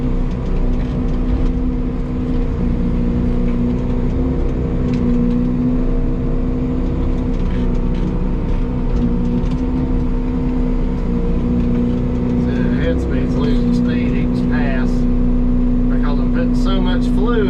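A Fecon mulching head on an excavator spools up and mows steep ground, with a constant loud engine and hydraulic drone holding a steady pitch. Near the end, crackling bursts of material being cut come in over it, and someone talks above the machine.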